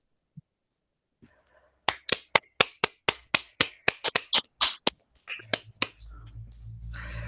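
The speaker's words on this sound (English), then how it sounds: "I don't know if we could give a round of applause." Applause from a small online panel audience: a quick series of sharp, separate claps and snaps, about a dozen in a brisk irregular rhythm, close and dry, tapering as a low hum and faint background noise rise.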